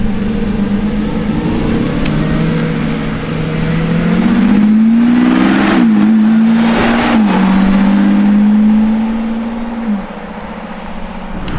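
A Lamborghini Revuelto drives past with its engine revving, a steady loud drone that rises in pitch and swells around the middle, then drops away near the end with no talk over it.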